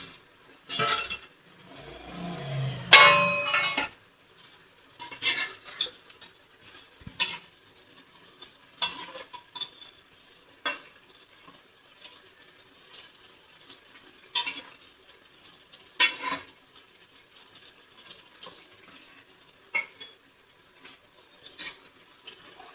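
Chhana koftas made with chana dal drop into a simmering curry in a pan, followed by scattered scraping and clinking of a spoon stirring against the metal at irregular intervals.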